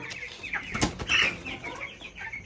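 Chickens cluck and squawk close by in a backyard, several birds calling over one another in short bursts with some scuffling.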